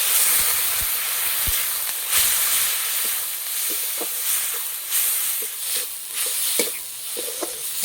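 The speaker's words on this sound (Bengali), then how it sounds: "মশলা কষানো হয়ে গেছে" Ground spices, chili, cumin and turmeric powder with a splash of water, fry in a pan with a steady loud hiss and sizzle, broken by occasional light taps and scrapes of stirring.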